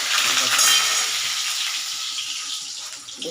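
Eggplant hits a hot frying pan in a loud hissing sizzle that slowly eases over a few seconds, heard alone without speech.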